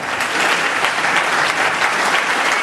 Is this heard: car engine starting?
no